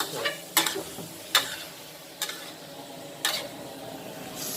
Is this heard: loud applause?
no